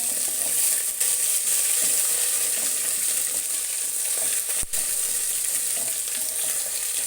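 Garlic ginger paste sizzles and fries steadily in a hot pan, a constant bright hiss with a faint clink partway through.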